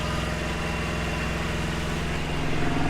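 A truck's engine running steadily, a continuous low rhythmic rumble with an even pulse, close and constant throughout with no talking.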